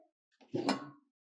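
A pressure cooker is set down in a home kitchen during cooking for Navaratri, giving one short, close metallic clunk with a slight scrape, alone in quiet.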